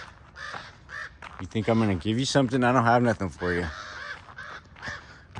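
Two crows cawing nearby, their harsh calls mixed in with someone talking to them throughout.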